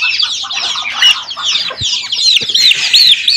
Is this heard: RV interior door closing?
no